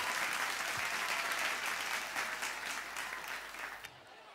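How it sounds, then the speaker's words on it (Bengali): An audience at a stage show in Khanchi claps loudly and continuously, a dense unbroken wash of applause that stops abruptly near the end. "সবাই মিলে একটা জোরে জোরে হাততালি হোক"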